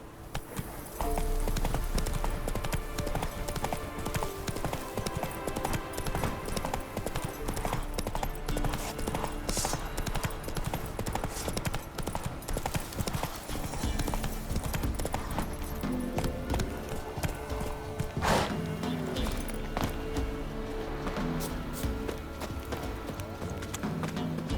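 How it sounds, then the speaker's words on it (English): A horse galloping in The Witcher 3 video game, a steady, loud clip-clop of hooves that runs throughout, with an occasional whinny. "Run, Roach."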